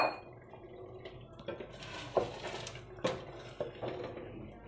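Water splashes and drips into a cooking pot of mutton and chana dal, a few distinct splashy hits and trickles standing out over a steady low background hiss.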